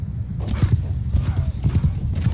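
Cavalry horses gallop in Mount & Blade II Bannerlord, a dense run of clip-clopping hooves with a faint whinny, loud and continuous under battle din.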